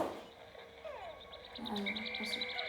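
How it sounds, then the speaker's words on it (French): A Smoggy Frog in the Pikmin video game croaks in a rapid series of chirpy, warbling calls, close and fairly clear over a quiet game backdrop, with no talking. "me dis pas qu'il y a la grenouille, la Smoggy Frog là"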